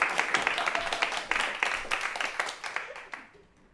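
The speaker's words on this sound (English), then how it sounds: "let's have a huge round of applause for someone." A studio audience at a TV comedy taping applauds for several seconds, a dense wash of clapping that stays fairly even and then thins and fades away toward the end.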